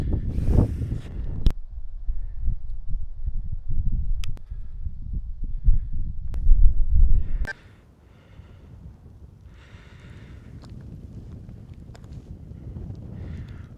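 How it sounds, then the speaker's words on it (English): Wind buffets the microphone on a mountain ridge scramble, heavy low rumbling gusts for the first several seconds, then dropping to a softer, steady background rush. "It's really quite windy up here."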